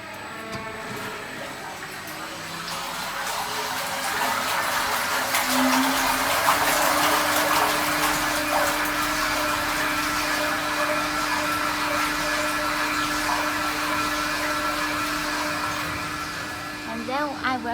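A 300L toothpaste making machine runs its auto-mix cycle, a steady motor whine and churning hum that swells after a few seconds and holds, with tonal mechanical drones throughout.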